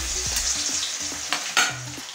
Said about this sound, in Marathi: तेल तापलं आहे आपलं